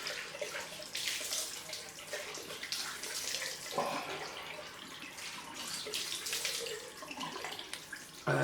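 Tap water runs steadily into a sink for a cold rinse after a shave, a continuous close splashing stream with small shifts in flow and no talking.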